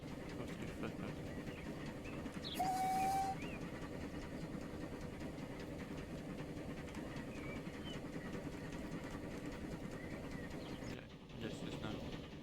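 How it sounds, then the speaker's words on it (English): A fully loaded train runs along the track in the game Transport Fever 2, a steady low rumble with faint clickety-clack, one short high whistle-like tone, and quiet speech over it. "So, with an full train heading towards Barton."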